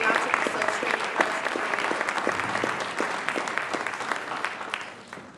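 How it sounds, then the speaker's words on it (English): Audience applause for Nancy and her team at an evening event on Palestine and justice: a steady, dense round of clapping from a sizeable crowd, moderately loud, fading slightly at the end. "I want to give a round of applause to Nancy"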